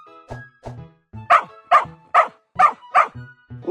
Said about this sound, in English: Dog. D-O-G. Dog.